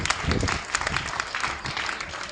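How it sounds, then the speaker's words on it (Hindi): A short burst of many hands clapping close by, quick and uneven, at a home gathering after a child's recovery. "तालियां बजा लो, बिल्कुल ठीक हो गया लड़का।"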